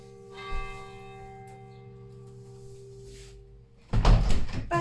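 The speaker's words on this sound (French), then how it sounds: "je vais fermer ma fenêtre parce que sinon la cloche, on va rien entendre" A church bell rings outside an open window, a steady sustained tone, before a loud clatter of the window being shut near the end.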